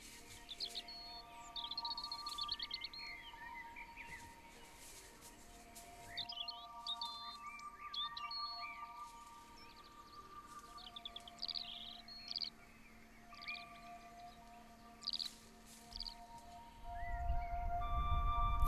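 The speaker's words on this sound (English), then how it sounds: "The birds flew high in the sky." Birds in the Val Rosandra valley nature reserve chirp and trill in short, scattered bursts. The calls are moderately faint over a quiet background, and a low rumble rises at the end.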